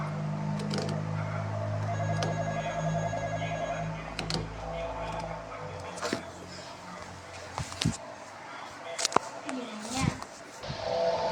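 A telephone rings in the Roblox horror game The Intruder, its electronic ring repeating for a few seconds before giving way to clicks and bumps, with a voice talking over it.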